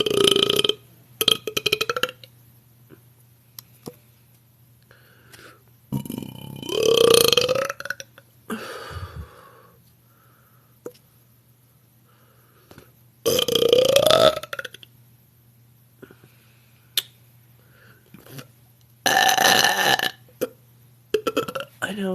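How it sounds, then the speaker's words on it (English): A girl belches a series of loud, deep burps, four or five long croaking eructations separated by pauses, close and clear in a quiet room. "those are real burps"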